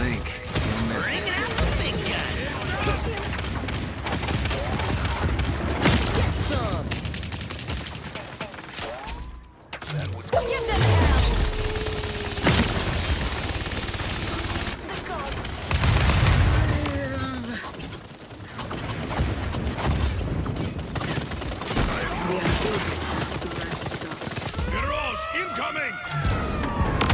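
Kinessa's weapon fires over and over in a Paladins PS4 deathmatch, bursts of shots and impacts mixed with game effects and a voice talking across the stretch.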